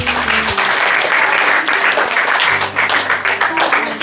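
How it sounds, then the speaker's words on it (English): Schoolchildren clap for their classmates during a school talk on pollution, a steady dense burst of applause filling the room close by, with some faint talk underneath. "Clap your classmates."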